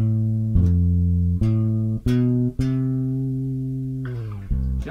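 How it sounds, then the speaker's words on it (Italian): Walking bass line with chromatic approach notes, played as separate plucked, sustained low notes in a slow, even rhythm, each ringing before the next attack, close and clear with no voice. "Quindi potrei suonare questa linea: Do, Mi bemolle, Sol, Sol diesis. Arrivo alla terza di Fa."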